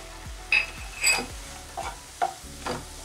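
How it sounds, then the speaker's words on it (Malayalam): A spoon scrapes and stirs grated coconut with fried cashews in a pan, several distinct scraping strokes in a steady rhythm, close and fairly loud, with no talking. "കൈവിടാതെ ഒന്ന് ഇളക്കി യോജിപ്പിക്കുക"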